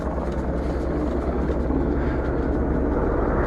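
Steady, loud rotor drone of a hovering helicopter fills the short stretch without pause, close and constant.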